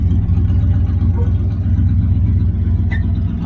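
A car engine idles close by in a steady, loud, low rumble that runs unbroken and with no talk.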